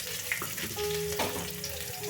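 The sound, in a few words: chopped garlic frying in tempering for lentil dal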